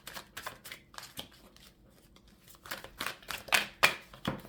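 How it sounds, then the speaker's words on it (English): Tarot cards being shuffled by hand, a series of quick riffling bursts and soft slaps in an irregular rhythm, close and fairly quiet. "So let me shuffle a little bit."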